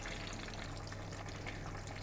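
Breaded leftover pork shoulder fries in a frying pan, producing a steady, dense crackling sizzle throughout at low volume, with no voices.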